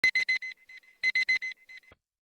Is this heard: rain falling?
no